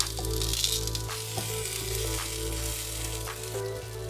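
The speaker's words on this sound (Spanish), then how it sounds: "Ahora vamos a poner los jitomates" Whole tomatoes with an eighth of an onion and a large garlic clove sizzle steadily on a hot dry pan, charring for a taqueria-style red salsa, a continuous close frying hiss with small pops and no talk.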